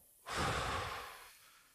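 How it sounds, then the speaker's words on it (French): A single deep breath, a long airy inhale-exhale that swells quickly, holds, then fades, close and fairly soft with no talking. "Une respiration."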